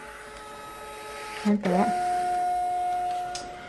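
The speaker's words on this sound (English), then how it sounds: "this is my label printer" A label printer whirs briefly with a short mechanical burst, then settles into a steady electronic tone and hum; a voice speaks over it.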